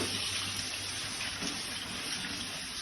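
Jamun fruit gets washed under running water, a steady moderate gush and splash that continues throughout with no voices.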